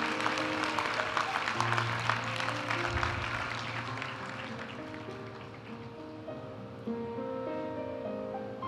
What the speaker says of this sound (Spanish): Aplaudimos ahora a la graduada de la maestría en Gerencias de la Construcción.